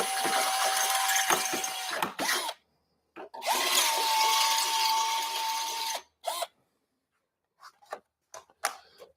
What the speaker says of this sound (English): So we're going to take our drill, give them a little extra.